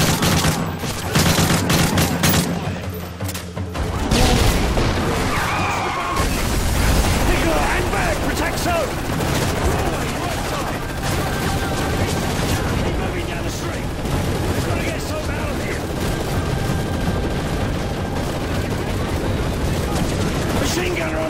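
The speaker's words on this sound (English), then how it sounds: "machine gunner on the balcony! Take him out!" Dense machine gun fire and explosions in the PC shooter Call of Duty: Modern Warfare 3, a loud, sustained fusillade of rapid shots with heavier blasts early on, mixed with battle noise and shouted voices.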